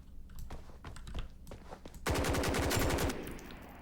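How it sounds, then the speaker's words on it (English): Rapid gunfire from an AK101 rifle in the video game Operation Phoenix: a few scattered single shots, then a dense full-auto burst of about a second, loud and close, with no speech. "We gotta get some kills with the AK101."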